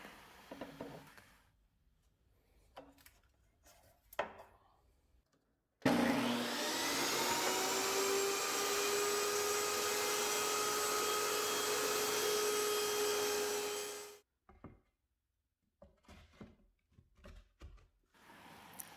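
A power saw whines loudly for about eight seconds, cutting a real wood accent wall board. It starts and stops abruptly, with faint handling clatter before and after.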